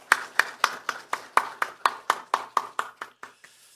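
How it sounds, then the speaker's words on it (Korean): A congregation at a Sunday church service in Jeju claps in thanks to God, with about a dozen sharp, evenly paced claps in a steady rhythm that thins out toward the end, close and clear with no talking. "하나님께 감사의 박수 올리겠습니다."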